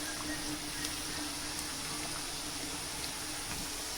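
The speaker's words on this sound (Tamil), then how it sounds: "இந்த சலசலப்பெல்லாம் வெந்து நிற்கிறதுனால தான் இந்த சலசலப்பு இருக்குது." Aloo bhakarwadi pinwheels, potato-filled samosa-style rolls, sizzle while frying in oil, giving a steady, even hiss that holds without pause throughout.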